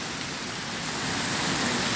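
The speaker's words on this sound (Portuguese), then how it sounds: "uns 25 minutos de chuva já" Heavy rain pours steadily in Guajará-Mirim, Rondônia, a dense, even hiss that fills the scene without a break, with a low rumble beneath it that swells slightly toward the end.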